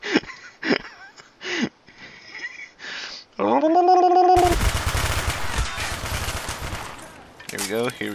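Rapid automatic gunfire in Black Ops bursts in loud and dense after several seconds of broken talk and laughter, sustaining a heavy rattling barrage before a brief break and another short burst.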